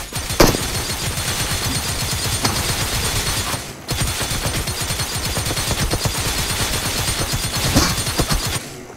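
Sustained automatic gunfire in PUBG Mobile rattles out in rapid, loud bursts of close shots, with one short break midway before the firing resumes.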